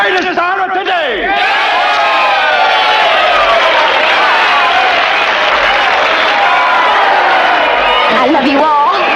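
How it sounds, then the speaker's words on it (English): A studio crowd cheering and clapping for a performer in a 1974 made-for-TV drama, a loud, dense roar of whoops and applause that swells and holds for several seconds, with voices shouting over it. "let's have a big cheer for Kelly Williams, the greatest star of today"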